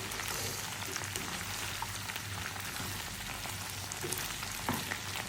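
Sliced okra fries in hot oil with a soft, continuous sizzle that stays even and fairly quiet throughout, with no voices.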